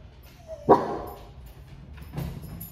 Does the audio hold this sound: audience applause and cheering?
no